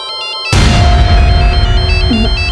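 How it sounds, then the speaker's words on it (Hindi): After a short stretch of quiet, a phone ringtone for an incoming call starts up loudly, playing a bright repeating electronic melody that keeps going to the end. "किसका फोन आ गया?"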